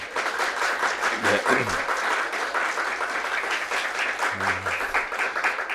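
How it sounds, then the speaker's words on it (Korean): Applause breaks out for church members, elders and deacons who came along to a staff worship service after early-morning prayer, sustained steady clapping from a group indoors with a couple of brief voices heard under it. "박수 한번 하겠습니다"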